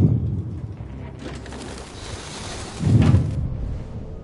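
Pigeons or doves coo in the video game Detroit: Become Human, a soft low cooing over steady rain-like ambience that swells near the end.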